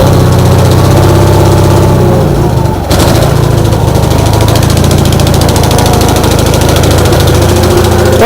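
An engine runs loudly after a cold start on a rainy day with the choke shut off, laboring and starved of fuel, a constant rough drone with a brief dip midway.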